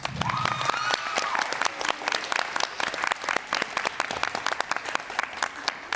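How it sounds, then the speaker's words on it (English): An audience at a community panel event applauds the panel members from juvenile justice and corrections agencies, a short burst of moderately loud scattered clapping with a brief murmur of voices at the start. "Let's give all of them a round of applause."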